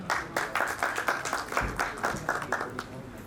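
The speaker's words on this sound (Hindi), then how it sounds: "राजेंद्र जी के लिए भी जोरदार तालियां" Audience members at a stage function clap for Rajendra Sharma, a moderately loud, close burst of distinct rhythmic claps with regular peaks, heard alone for a few seconds.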